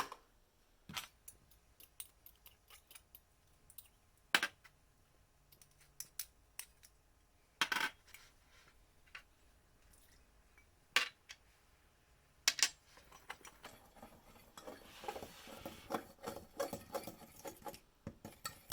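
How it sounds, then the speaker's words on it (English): A dressing of mustard, honey with partly crystallized texture, and cider vinegar is stirred, giving quiet, sparse clicks and taps against the bowl that turn into steadier, busier scraping toward the end. "So we're going to combine all these ingredients and also give it a nice stir."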